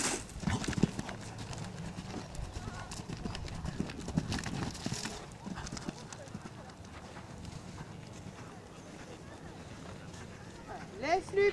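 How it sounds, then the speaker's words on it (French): A horse galloping during a riding lesson, its hoofbeats a quick rhythmic clip-clop at moderate distance, with a riding instructor speaking over the sound throughout. "La galope."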